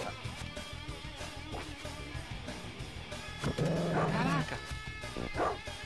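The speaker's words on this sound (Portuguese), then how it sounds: "Tem um dog ali, hein." A dog in the Sega CD game The Amazing Spider-Man vs The Kingpin gives a couple of short, whining barks over game music, clear but not loud.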